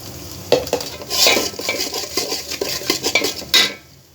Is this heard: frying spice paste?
yes